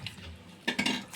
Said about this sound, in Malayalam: എന്നിട്ട് നല്ലോണം ഒന്ന് ഇളക്കി നല്ലോണം ഒന്ന് വറ്റിച്ചെടുക്കണം